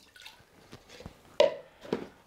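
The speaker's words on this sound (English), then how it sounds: "that that can just drip into the bowl" Water from a central heating radiator valve drips into a bowl in several separate, uneven drops over a couple of seconds, close and quiet, with one louder splash midway.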